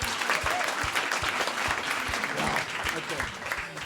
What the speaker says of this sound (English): Another clap for Shaka.